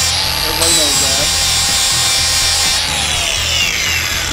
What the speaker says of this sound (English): Now I'm gonna grind the paint off.